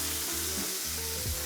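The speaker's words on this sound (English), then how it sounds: "we just want to make sure we get a really, really good sear off this burger" A burger patty of coarse-ground beef sears on a hot griddle, giving a steady, close sizzle that runs unbroken the whole time with no talking.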